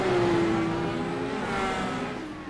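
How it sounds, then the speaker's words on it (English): A simulated IndyCar engine revs in a racing game, a loud, high-pitched whine that sweeps and holds before easing off slightly, with no voices. "Across the line, Kraus revs the engine."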